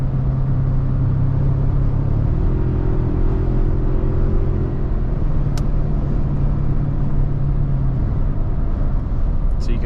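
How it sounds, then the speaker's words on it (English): Engine of a 2024 Toyota Tacoma TRD Off-Road Premium held at high RPM in fifth gear, a steady loud droning rumble heard from inside the cab, with engine tones shifting partway through. "I got the RPMs pretty high here."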